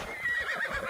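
A horse in the video game Assassin's Creed Odyssey gives a short, close whinny lasting about a second, a bright wavering neigh heard alone.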